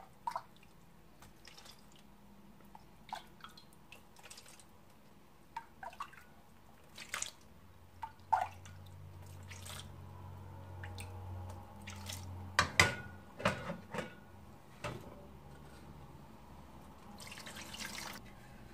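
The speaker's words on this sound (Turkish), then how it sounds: "Şimdi şerbetimi dökeceğim üstüne." Warm sugar syrup is poured over bread kadayif, giving soft trickling and dripping sounds with scattered faint splashes and clinks, quiet and close throughout.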